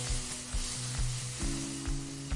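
A paste of ginger, green chili and cumin fries in hot oil in a wok with dried red chilies, bay leaf and five-spice seeds, giving a steady close sizzle broken by a few soft stirring thumps.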